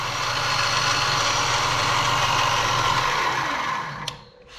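A Harbor Freight Speedway Series mini milling machine runs in low gear at 1100 RPM with a steady, loud whirring hum, then winds down and stops near the end.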